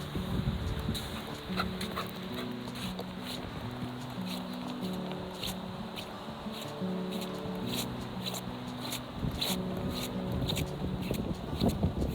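Dogs whimpering and whining in repeated high, wavering cries over rustling and movement noise, fairly close, outdoors on a snowy climb.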